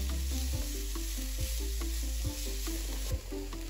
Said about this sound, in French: Je fais chauffer de l'huile d'olive dans une poêle et je les fais revenir tout doucement.